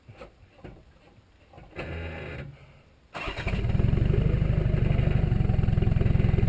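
An off-road vehicle's engine, climbing with the front locker engaged, starts off quiet and then roars up into a loud, steady, throbbing rev that continues to the end.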